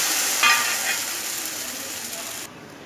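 Kari dosa fries on a hot tawa with a steady loud sizzle, a ladle scraping beneath it as it is flipped before the frying noise drops away near the end.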